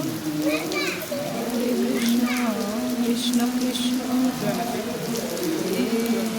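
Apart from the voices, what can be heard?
rain starting to fall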